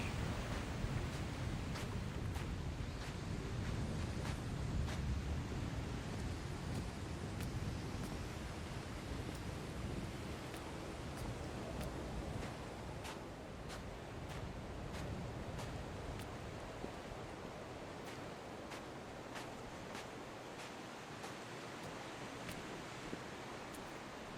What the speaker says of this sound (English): Just enjoy the wind, friends. The wind and the atmospheric sounds.